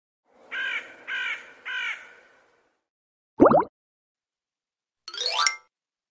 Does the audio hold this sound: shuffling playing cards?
no